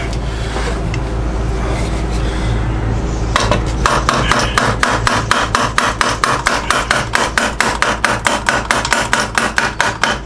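A big hammer strikes the engine casing of a Honda CBR125R during clutch and sprocket work, opening with steady noise and then settling into a long run of rapid, loud, evenly spaced metallic blows.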